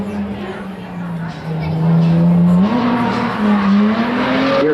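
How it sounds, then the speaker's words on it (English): A green Nissan 240SX S14 drift car powered by a Nissan 350Z engine, competing in a drift round at Evergreen Speedway, roars loudly with a rising engine note and tire squeal, growing louder midway with crowd noise and talk over it. "another car powered by a Nissan 350Z motor. This is a later generation 240SX, the S14"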